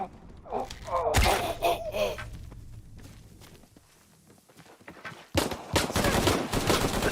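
Gunfire rings out in Shadow of the Tomb Raider, loud bursts of shots in two clusters with a quieter stretch between them, mixed with thuds and shouting voices.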